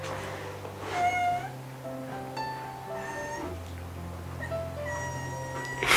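Several drawn-out meows in sequence, a voice imitating a cat, moderately loud with brief pauses between calls.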